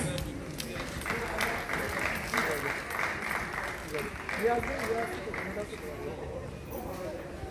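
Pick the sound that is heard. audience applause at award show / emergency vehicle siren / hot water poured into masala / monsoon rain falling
audience applause at award show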